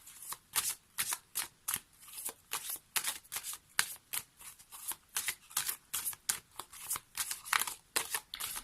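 Oracle cards are shuffled by hand in a quick, even rhythm of crisp riffling bursts, close and clear, continuing steadily with no voices over it.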